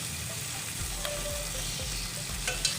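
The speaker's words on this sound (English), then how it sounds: "You can hear the popping sound. Those are the fats of the skin." Pork belly skin fat sizzles and pops in a Salad Master pan with onion leeks, a continuous close frying hiss dotted with sharp little pops.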